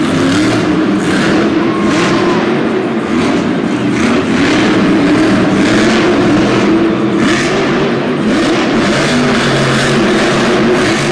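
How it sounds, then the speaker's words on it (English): A monster truck at a Monster Jam arena show in Syracuse spins a donut, its engine revving loud and steady in a continuous roar, with crowd and arena noise underneath. "Spinning it into a quick little donut."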